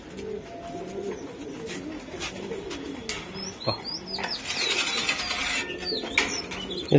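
A male race-flown racer pigeon coos repeatedly in a low, throaty rhythm inside a loft, with other birds chirping and brief wing flutters around it.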